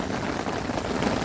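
Rain falling on a camping gazebo overnight as light rain builds toward a storm, a steady dense patter with no breaks, fairly close and even throughout.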